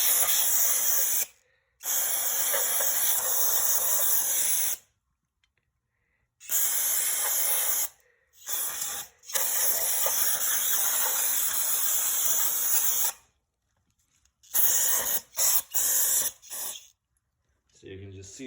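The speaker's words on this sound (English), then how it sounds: "you can see how good of a job the spray is doing" Aerosol cleaner sprayed onto a dirty, oil- and carbon-caked Infiniti engine valve cover, coming as several long, loud, close hissing bursts separated by brief silences, with shorter spurts toward the end.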